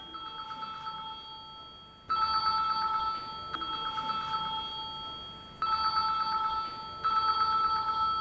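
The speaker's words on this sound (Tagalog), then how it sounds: "Oy, namamaos na yung telepono." A telephone rings in repeated electronic bursts, loud and near, with brief gaps between the ring cycles and no voices over it.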